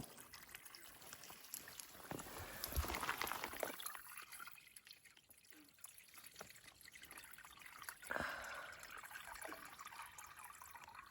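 Water gurgles and trickles steadily into a bottle filled from a creek on the Appalachian Trail, with splashy surges and a faint background of flowing stream.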